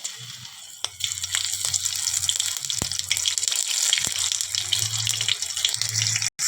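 Steady hiss of whole tempering spices sizzling in hot oil in a wok for a sea fish curry, with a few sharp crackles and pops standing out over a continuous, bright frying noise.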